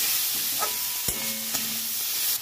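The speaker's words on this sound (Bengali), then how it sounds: "ভালো করে একটু নেড়ে চেড়ে নেবো।" Spiced cabbage filling for bandhakopi paratha is stirred in a pan with cumin, coriander, chili and turmeric powders, giving a steady broadband sizzle with a few sharp scrapes of the spatula against the pan, close and alone.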